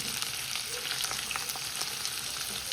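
Prawns being mixed into bitter gourd frying in a pan: a dense, continuous sizzle with light scraping and clicking from the stirring, close and even, with no voices.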